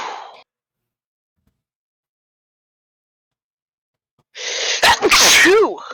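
A single loud, close sneeze bursts out after a long stretch of silence, with a short breathy sound just before the silence.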